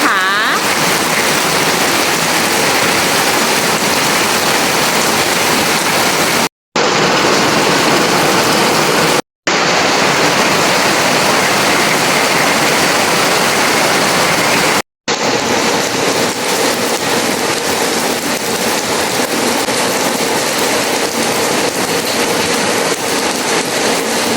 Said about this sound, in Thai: ทุกครั้งที่ปลูกต้นไม้ใหม่ฝนจะเทมา